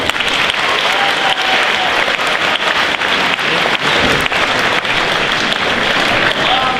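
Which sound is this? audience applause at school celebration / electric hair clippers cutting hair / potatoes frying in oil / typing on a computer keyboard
audience applause at school celebration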